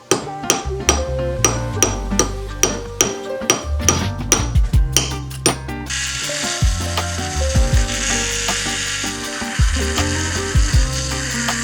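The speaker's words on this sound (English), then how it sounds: "I am gonna take one of these and hammer them because I feel like it would look really pretty hammered." Silver pieces are struck repeatedly with a hammer at a silversmithing bench, giving a steady run of sharp, close metallic taps that give way to a denser, rougher working noise.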